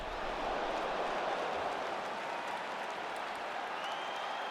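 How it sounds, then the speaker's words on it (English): Arena crowd at a UFC event applauding between rounds, a steady dense wash of clapping and cheering that holds loud and even throughout. "So the crowd voicing its appreciation after that round."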